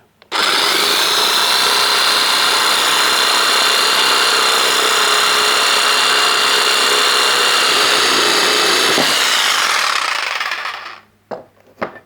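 A jigsaw on a smooth, non-aggressive slow setting cuts steadily with a loud continuous buzzing rattle for about ten seconds, then winds down and stops, followed by a few faint clicks.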